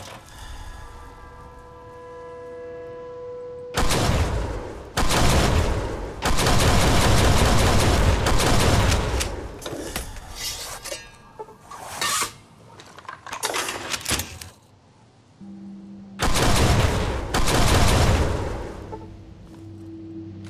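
Video game gunfire strikes the player in Fallout: New Vegas, Lonesome Road DLC. Loud bursts of rapid shots come in several waves separated by quieter stretches, with occasional tonal game sounds between them.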